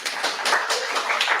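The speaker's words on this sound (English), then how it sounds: "Let's have a round of applause for our candidates." An audience claps for student union officer candidates at a university question-time event, a brief scattering of light, uneven applause from a small room.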